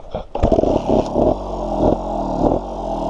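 A GasGas 250 two-stroke trial motorcycle engine revving up hard, then holding a loud, buzzy high idle with a few sharp throttle blips, close by and alone.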